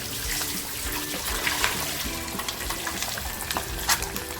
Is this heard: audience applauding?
no